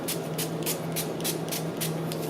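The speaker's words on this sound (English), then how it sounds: "And then I'm going to spray" A hand spray bottle misting soap during melt-and-pour soap making, about eight short, soft hissing spritzes in an even rhythm against a quiet background hum.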